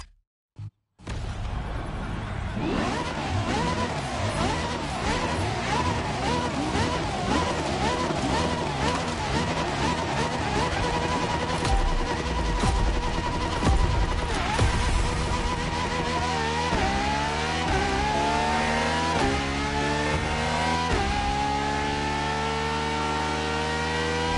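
LaFerrari supercar engine in The Crew Motorfest video game, a loud continuous revving with rising and falling pitch, climbing through gears and surging, heard alone after a couple of brief opening clicks.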